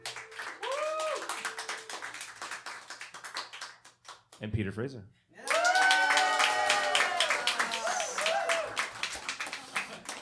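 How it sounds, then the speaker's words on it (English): An audience votes by applause at a live comedy show, with scattered claps followed by a burst of louder clapping, all heard under people talking. "By round of applause, who's for Dan Donnelly?"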